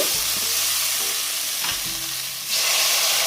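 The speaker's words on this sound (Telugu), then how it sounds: "తాలింపు వేసుకున్నాం కదా, అందులో కొంచెం ఉల్లిపాయ," Onion pieces frying in a dal tempering, a loud, continuous sizzle with spoon-stirring scrapes, rising in intensity near the end, no voices.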